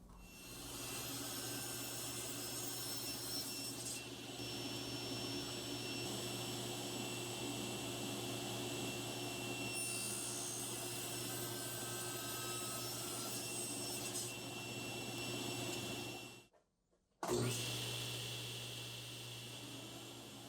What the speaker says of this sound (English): I set the blade angle to 45 degrees and placed the miter gauge on the other side of the blade to cut my miters